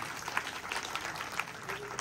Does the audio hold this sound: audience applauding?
yes